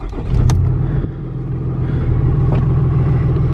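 Ram truck engine rumbling steadily while driving in bad weather, heard from inside the cab as a continuous low drone with a couple of brief knocks.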